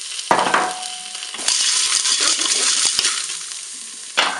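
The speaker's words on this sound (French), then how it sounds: "Allez, je vais maintenant ajouter les pâtes." Dry pasta pours into a Cookeo pot already holding chorizo and onion, giving a brief rattle followed by steady sizzling and stirring clatter, then a final short burst of noise near the end.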